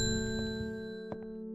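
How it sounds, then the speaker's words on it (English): A single bright shop-bell ding rings out once in the video game Strange Horticulture, sounding close and clear over steady background music. "I'm gonna ding the bell"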